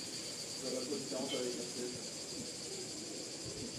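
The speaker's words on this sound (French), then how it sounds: "On entend les cigales." Cicadas buzz outdoors on a summer day in southern France, a steady high-pitched drone in the background. People talk in French over it close by.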